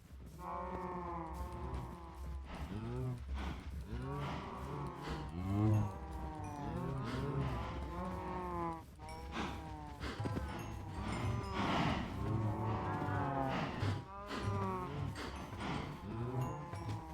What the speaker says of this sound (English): We haven't killed the cows in a while.